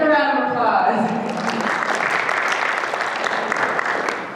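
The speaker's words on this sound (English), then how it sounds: "Give him a round of applause" A convention panel audience at NashiCon 2018 breaks into applause, dense clapping swelling after a brief spoken introduction and holding steady before fading at the end.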